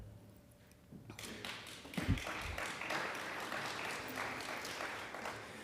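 A debate audience at a Douglas County primary breaks into applause for a candidate, the clapping starting after a quiet moment and holding as a steady, full-room patter.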